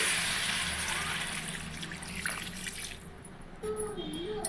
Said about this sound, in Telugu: 5 నిమిషాల తర్వాత ఒక గ్లాసు వాటర్ వేసుకోండి